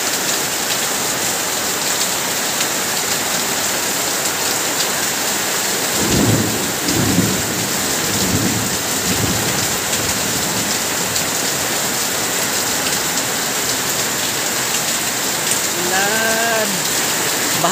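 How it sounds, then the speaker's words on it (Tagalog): Heavy rain pours steadily as a loud continuous hiss, with rolling thunder rumbling through the middle and a faint rising tone near the end. "Lakas ng ulan mga kapapa."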